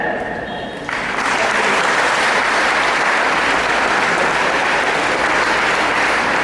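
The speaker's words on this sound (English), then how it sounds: "give your chairman a big clap" A seminar audience at an international psychology seminar claps for their chairman; after a short lead-in, loud, dense, continuous applause fills the room and holds steady for several seconds.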